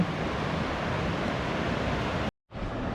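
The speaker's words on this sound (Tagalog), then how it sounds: "Nandito na tayo sa Imugan Falls." Constant broad rush of falling water at Imugan Falls, a loud, steady roar close by, with a sudden brief dropout near the end before the roar resumes.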